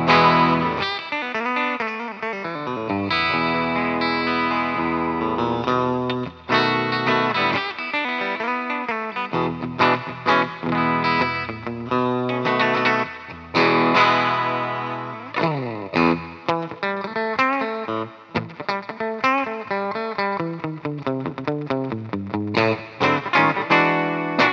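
A distorted electric guitar, a Lavish CMRL with new pickups played on the neck pickup, plays melodic lines and sustained notes through effects with chorus, fairly loud and continuous, no voices.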